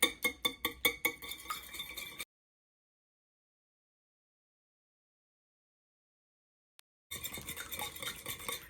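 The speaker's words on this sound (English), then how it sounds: "I'm just going to get this eggs all broken up. Get it all whipped around" Eggs whisked in a bowl, a quick rhythmic clatter of strokes against the sides, close and clear, stopping into a long silence before a second burst of whisking resumes.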